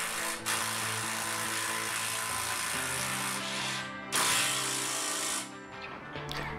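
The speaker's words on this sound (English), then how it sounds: "I'm using some coach screws to attach the rail to the bed frame." A power driver sends coach screws through a rail into a wooden bed frame, a loud, close, sustained whirring and grinding with a few brief pauses and pitch shifts as the screws bite.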